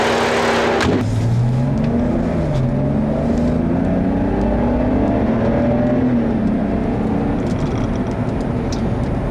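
A 2012 BMW 128i, rear-wheel drive, accelerates hard through the gears, its engine revving up in rising sweeps and then settling into a loud, close, steady drone.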